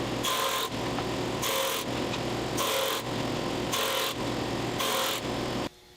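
Small wood pieces fed through a drum sander for flattening make five regular bursts of loud, gritty sanding noise, each about a second long with short dips between, ending abruptly as the machine goes quiet.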